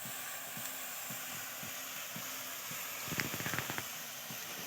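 Shredded potatoes for jhuri aloo bhaja frying in oil, a faint steady sizzle with a few brief crackling bursts near the end and a low repeating hum beneath.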